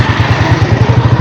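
A motorcycle engine runs close by on a Punjab village outing, a loud, throbbing low idle with a quick regular pulse throughout.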